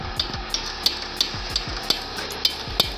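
Metal ratcheting and tapping on the upper arm knuckle bolt of a 2000s Audi A8L 6.3 W12 air suspension, a steady grinding texture punctuated by sharp clicks at roughly regular intervals, close and alone.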